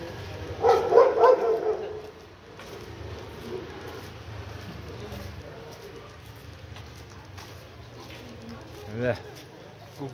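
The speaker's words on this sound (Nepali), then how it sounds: "ओ कुकुर भुक्दै छ" Dogs bark in a short cluster of yelps near a roadside party venue in Kalimpong, loud at first and then fading, with a single bark later, over steady street ambience and people talking.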